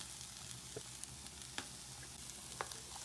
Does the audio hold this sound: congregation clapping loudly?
no